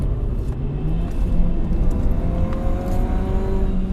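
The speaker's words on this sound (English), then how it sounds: "you definitely hear when the turbo is on full throttle" A turbocharged Ford Fiesta ST engine roars steadily under hard full-throttle acceleration, a dense continuous rumble with a faint whine on top and no talking.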